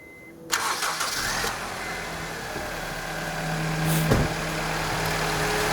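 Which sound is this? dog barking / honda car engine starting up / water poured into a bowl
honda car engine starting up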